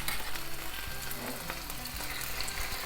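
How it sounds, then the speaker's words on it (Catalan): Onion and garlic fry in a pan of oil, giving a dense, continuous sizzle and crackle close by, with a faint low hum in the background and no voices. "ara anirem posant, doncs, tota aquesta ceba, els alls i tot"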